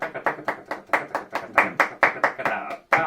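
Sharp flamenco hand claps in a steady, quick rhythm, about a dozen crisp strikes close by, with no talking.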